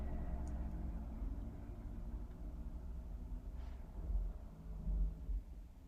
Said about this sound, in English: I'm sorry about the garbage truck. It is so flippin' loud.